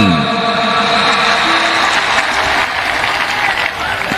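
An audience at a Thar Ke Veer ceremony in Barmer honoring soldiers applauds loudly and continuously, a dense wash of clapping with no voices over it.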